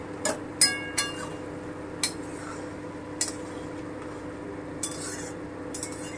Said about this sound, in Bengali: এবারে ঢাকাটা তুলে দেখছি।